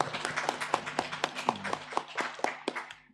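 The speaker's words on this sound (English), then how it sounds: "A hand clap for Michael." Steady rhythmic clapping, a dozen or so evenly spaced claps at a brisk pace, fairly close.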